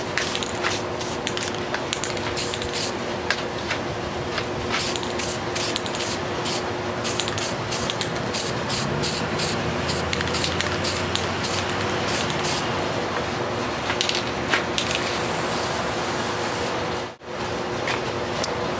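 Spray paint hisses from a can in long, steady bursts, with the rattle of short taps between, ending in a brief pause and a final hiss.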